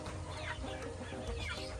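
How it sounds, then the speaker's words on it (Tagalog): Hens cluck softly nearby, a faint, busy chatter of several birds with no one talking. "ang manok ni tatay, dumarami"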